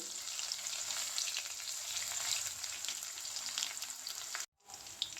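Garlic frying in hot oil along with popped mustard and fenugreek seeds for a tomato rasam, a steady close sizzle with crackling pops, briefly cut off near the end.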